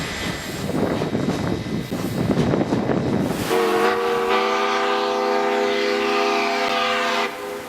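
A Georgetown Loop tourist train with open-top coach cars crosses a high flyover bridge above a rocky drop, rumbling and clattering loudly up close before a long, steady horn blast sounds for several seconds.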